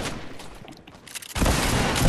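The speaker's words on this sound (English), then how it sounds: "Shotgun them from a mile away." Shotgun fire in the Fortnite Chapter 2 video game, a few muffled shots followed by a sudden loud, dense burst of blasts that continues near and steady to the end.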